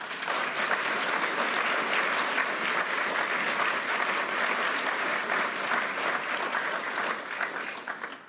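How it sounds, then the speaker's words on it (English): Warm sustained applause from a large audience in a hall at the Davos forum, a dense even roar of clapping lasting several seconds before tapering off at the end. "I think you can hear from the warm applause"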